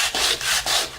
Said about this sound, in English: Using really rough grit sandpaper, just kind of fold it up.